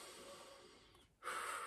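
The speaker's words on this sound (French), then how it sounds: "je prends une grande respiration" One person takes a deep breath during a calm relaxation exercise: a soft, close inhale that briefly dips to near silence and then swells into a louder airy rush, with no speech.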